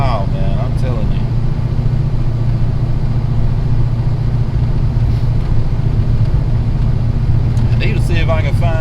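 A Ford Mustang Foxbody engine runs smoothly and steadily, its low, constant drone filling the cabin up close while someone talks over it.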